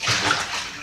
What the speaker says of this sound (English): drop the stockfish in the hot water